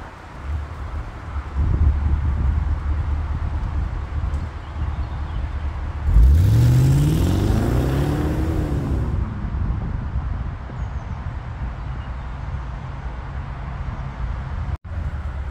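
A BMW E60-series car accelerates normally from a start, its engine note sweeping upward through a rising pitch over a few seconds before settling into a steady cruising drone, heard from inside the car.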